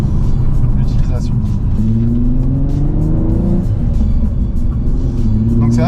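Nissan 350Z coupe engine revving at low to mid rpm, a steady close rumble that rises and settles in pitch, with someone talking over it.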